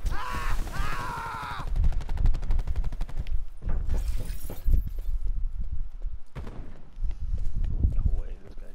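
Gunfire in a video game: rapid bursts of close shots, broken by brief pauses, with bits of game sound and effects mixed in.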